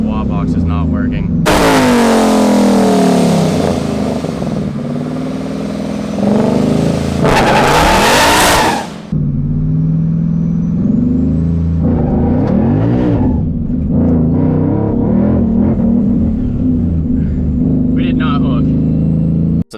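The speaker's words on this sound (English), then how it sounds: "Don't know what's going on with the burnout." A supercharged manual Mustang at a drag strip revs hard during a burnout, its engine roaring loud and near with rising and falling sweeps and a sudden cutoff, while voices talk throughout.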